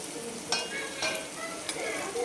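A spoon stirring kadhi in a pot just after turmeric goes in, soft swishing and faint sizzle with a few light scraping clinks, quiet and close, without talk.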